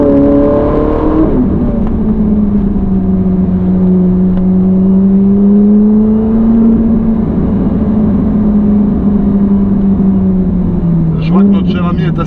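A Ferrari 458 Italia engine drones steadily at close range, its pitch rising and falling slightly as it cruises, with a brief rev near the end.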